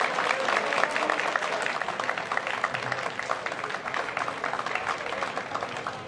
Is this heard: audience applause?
yes